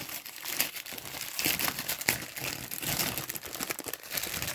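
Close, continuous crinkling and rustling of a TDS water-quality meter's plastic packaging being torn open, with irregular crackly bursts throughout.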